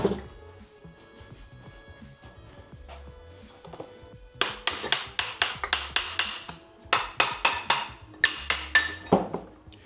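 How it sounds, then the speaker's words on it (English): A hammer taps metal to separate the parts of a car's back axle in a garage: after a quiet start, a quick run of sharp, ringing, close blows comes in clustered bursts. "you just need a little bit of a wiggle and a little bit of a hammer"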